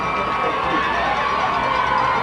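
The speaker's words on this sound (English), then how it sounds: "And the crowd is filing out." Football crowd at a 1994 high school game filing out of the stadium, a steady wash of distant chatter and occasional shouts with no clear peaks, continuous throughout.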